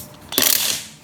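Ratchet loosening a lug nut on a 2004 Ford Mustang Mach 1 wheel, a single brief clicking burst, close and fairly loud.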